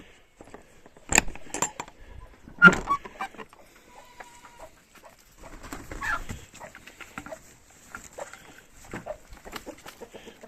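A hen recovering the morning after a hawk attack, with sparse soft clucks and small rustling movements close by, including two sharper bursts early on, in an otherwise quiet farmyard with no talk.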